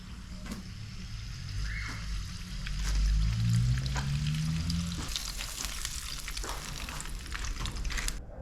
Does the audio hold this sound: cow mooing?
no